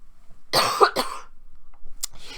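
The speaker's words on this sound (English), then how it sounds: "Sorry, I'm going to cough." Two close, rough coughs in quick succession, followed by a short pause and a smaller throaty burst near the end.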